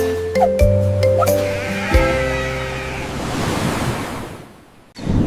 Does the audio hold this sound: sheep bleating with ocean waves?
yes